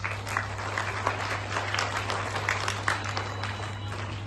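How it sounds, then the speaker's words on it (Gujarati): Audience applause at a speech event: a fairly quiet, distant patter of many hands clapping steadily over a low electrical hum. "એ બધાને માટે તાળી."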